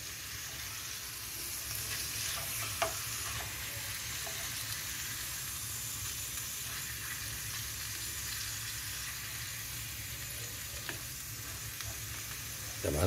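Small pieces of meat fry and get stirred in a tajine in a home kitchen, a steady close sizzle with occasional scraping clicks from the stirring and no talking.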